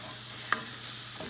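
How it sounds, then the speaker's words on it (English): Garlic browning in hot oil in a stir-fry pan, a soft steady sizzle close up with a couple of quick stirring clicks, brief and without speech. "And I'm gonna brown my garlic."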